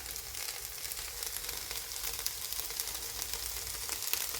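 Frozen okra shallow frying in a pan, a steady dense sizzle with crackling spatter throughout, close and fairly loud with no voices.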